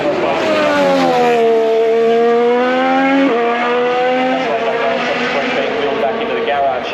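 Formula 1 car at Turn 1 of the Australian Grand Prix during first practice, engine note sweeping down through a series of sharp downshifts as it brakes into the corner, loud and steady with a voice talking over it.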